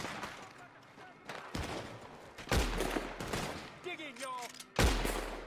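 Gunfire crackles in a Red Dead Redemption Online hideout fight, with scattered loud shots and bursts that include machine gun fire and rise in sharp spikes, while voices talk between the volleys.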